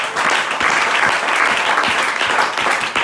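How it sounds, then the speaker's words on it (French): A church congregation claps together in praise of the Lord, dense, sustained applause close and loud throughout, with no clear voices over it. "On acclame pour le Seigneur notre Dieu."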